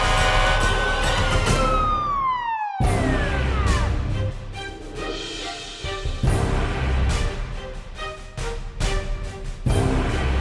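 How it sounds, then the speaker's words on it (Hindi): Police car siren wails with a falling sweep, cuts out briefly, then resumes loud and close with repeated rising-falling cycles over road noise. "पुलिस का सायरन, ये तो इधर ही आ रही है"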